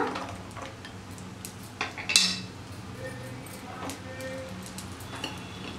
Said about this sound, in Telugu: ఇవన్నీ వేసి కొద్దిగా దోరగా వేయించుకోవాలి.